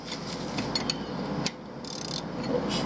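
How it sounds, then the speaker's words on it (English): A ratcheting wrench with a 19 millimeter socket turns the crank sprocket nut on an SRT4, a close, continuous run of fine metallic ratchet clicks and grinding with brief pauses. "You get your 19 millimeter and your ratcheting wrench."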